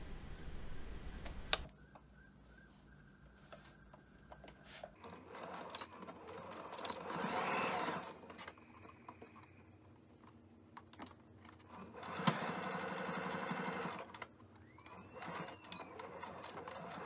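A sewing machine runs an edge stitch along the opening of a stuffed pillowcase for a flying-fox bat wrap, its motor whirring in steady bursts separated by quieter pauses, fairly close and without talk.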